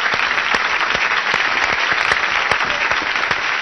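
Studio audience applauding on an Italian television show as the hostess walks on, a dense, steady clatter of many hands close and loud throughout with no talk over it.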